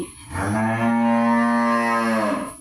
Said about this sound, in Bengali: সরি আমার একটা বকনা হেঁটে আসছে এই ডাকাডাকি করতেছে